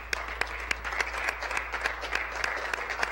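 An audience in a legislature gallery breaks into sustained applause, dense clapping with a few sharp individual claps standing out above a low steady hum.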